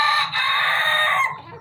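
A rooster crows loudly and close by in one long sustained call, with faint clucking of Golden Misri hens and low farmyard noise underneath.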